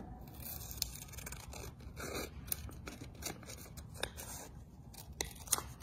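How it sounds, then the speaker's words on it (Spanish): Scissors cutting horizontally across a paper card: a series of quiet crisp snips and scraping slices at an uneven pace, close and faint, with brief gaps between cuts. "Dijimos que una de ellas también la vamos a recortar de forma horizontal."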